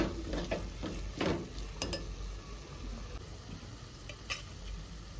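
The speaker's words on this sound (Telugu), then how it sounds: "కారము కొంచెం ఫ్రై చేసుకోవాలి" Chili powder frying in a pan for a small-fish curry: a steady, close hiss of sizzling with a few faint clinks and scrapes of a spoon scattered through it.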